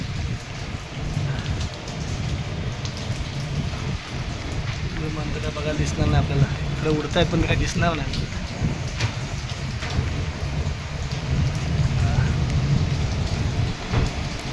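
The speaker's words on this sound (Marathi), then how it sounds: "चला पाऊस तर पडतोय" Heavy monsoon rain in Mumbai pours down in a steady, loud hiss, with people talking over it throughout.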